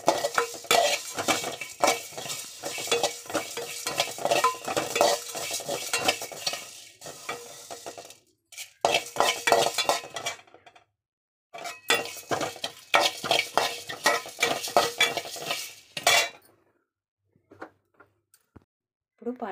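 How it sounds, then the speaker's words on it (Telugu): Cardamom pods are lightly fried for garam masala in a pan, with a spoon scraping and clinking in steady stirring strokes over a soft sizzle, broken by brief pauses. "యాలక్కాయలు వేసుకొని లైట్గా ఫ్రై చేసుకోవాలండి."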